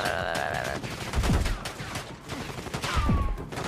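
Bursts of automatic gunfire ring out in the video game Call of Duty: Black Ops 6, with rapid rattling shots and heavier impacts that stay loud and dense across the whole clip.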